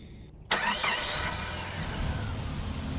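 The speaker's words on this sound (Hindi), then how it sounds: "मेघा गाड़ी चला रही थी।" A car engine cranks and catches after a short quiet lead-in, then settles into a steady mid-pitched hum as the car pulls away and is driven, fairly faint with no voices.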